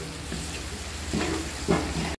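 Beef sizzles steadily in a hot pan while a utensil stirs and scrapes through it in a few short strokes, tossing it with sugar and salt for Pattani-style red fried beef.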